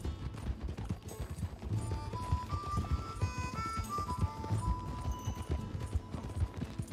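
Rapid clip-clopping horse hooves gallop steadily across open ground in Red Dead Redemption, with a musical score of sustained tones layered above the hoofbeats throughout.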